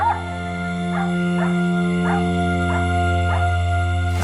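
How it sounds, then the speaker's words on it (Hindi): Dogs in a Raipur street bark and yip together in repeated sharp bursts about every half second to second, over a steady low hum, moderately close. "इधर कमरे से बाहर रायपुर की गली में कुत्ते एक साथ भौंक रहे हैं।"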